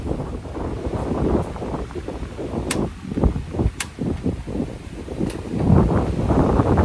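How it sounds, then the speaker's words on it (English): Strong wind buffets the microphone in loud, gusting bursts, with rumbling low roars that swell and fade and a few sharp clicks. "It's really windy."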